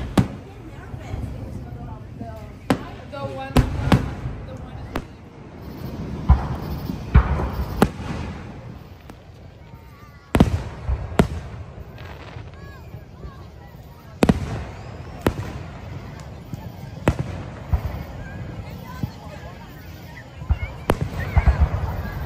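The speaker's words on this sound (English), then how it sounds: "at Will's Park in Alpharetta waiting for the fireworks." Fireworks bursting over a park crowd at Wills Park in Alpharetta, a series of sharp booms and crackles at irregular intervals, some loud and close, with people talking and crowd noise between the blasts.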